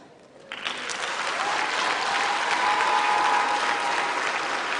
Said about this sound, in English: please acknowledge with a round of applause to all your families, friends, and parents that are here.